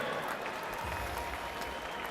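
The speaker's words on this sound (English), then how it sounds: "Big round of applause for Toby TigerHeart Grear." A crowd at a mixed martial arts event applauds a fighter after his win, a steady, distant wash of clapping that stays faint and even in a large hall.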